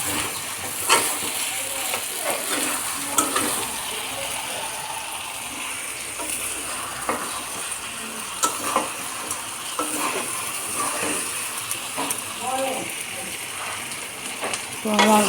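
Fish head being fried with spices in a wok, a steady close sizzle and scraping stir running throughout with intermittent clinks of the utensil against the pan.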